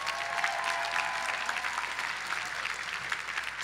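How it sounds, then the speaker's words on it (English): A commencement audience claps for the faculty, a dense, continuous round of applause from a large crowd that holds steady across the whole stretch without any talking. "Give your faculty a round of applause."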